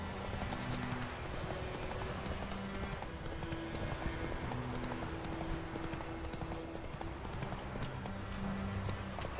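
A horse gallops in The Witcher III, rapid rhythmic hoofbeats pounding continuously and close, over a busy game soundscape with no talking.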